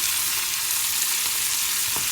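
Vegetables and minced meat fry in an uncovered pan, a bright, steady sizzle with soft scraping and stirring strokes near the end, close and alone without talk.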